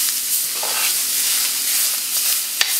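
A roux for New Orleans gumbo hisses steadily as it is stirred in a hot pot, with a soft, continuous sizzle broken by an occasional faint scrape or tap. No one speaks.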